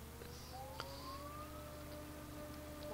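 A vehicle siren from the video game Farming Simulator 2013, a steady rising wail sustained for the whole stretch over a constant low engine drone, with a faint click partway through.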